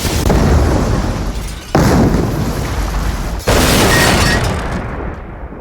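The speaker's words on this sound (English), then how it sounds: "Peter dons a Joker costume and blows up the city's entire vaccine supply, along with the hospital storing it" Cartoon explosions from Family Guy as a hospital and the city's vaccine supply are blown up: three loud, dense blasts in a row, each cutting in abruptly and rumbling on before the last fades out.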